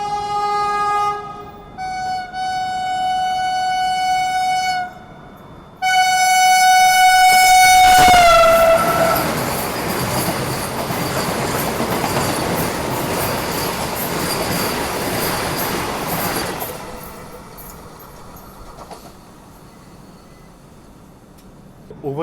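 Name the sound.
Ranchi Vande Bharat train overtaking alongside in parallel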